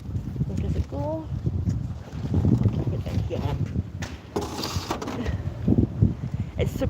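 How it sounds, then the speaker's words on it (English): Strong wind buffeting the microphone outdoors in Scotland, a rough low-frequency roar that gusts continuously while a person talks over it. "It's super windy."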